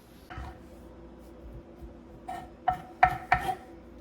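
A husband cooking in a home kitchen, with soft rubbing and scraping and then a few sharp clanks of pots and utensils toward the end, close by and fairly quiet.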